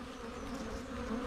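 Honey bees in a hive with a laying worker, buzzing in a dense, steady drone heard up close.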